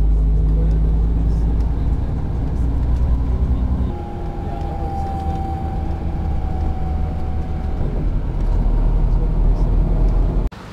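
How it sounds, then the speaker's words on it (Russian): City bus pulling up on a street in Marmaris, Turkey: loud, continuous low engine rumble with a steady whine in the middle, running for about ten seconds before cutting off abruptly. "Вот мой автобус."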